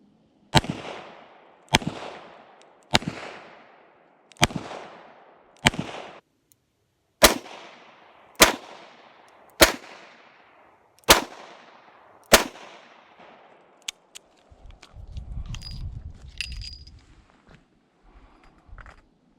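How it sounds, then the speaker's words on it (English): Taurus Public Defender Poly revolver firing .45 Long Colt double action at 15 yards: ten sharp loud shots in two evenly spaced strings of five with short decaying echoes, followed by quieter rustling handling noise. "So 5 shots, 15 yards, 45 long Colt."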